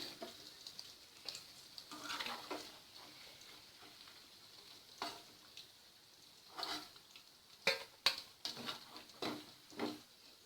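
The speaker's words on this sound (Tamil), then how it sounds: "சிக்கன் இப்போ நல்லா ஃப்ரை ஆகிடுச்சு போதுமான அளவுக்கு" Chicken pieces frying in hot oil for chilli chicken make a soft, steady sizzle with scattered crackles and pops, quiet and close, with no talk.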